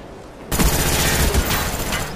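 Gunfire in Call of Duty Black Ops during a Demolition match: after a short quiet lead-in, a loud, dense burst of rapid automatic shots erupts and continues steadily, close and unbroken, with no talk.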